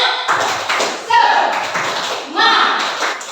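A group does a rhythmic spirit clap at a teachers' training session, short bursts of claps in a patterned beat mixed with voices chanting along.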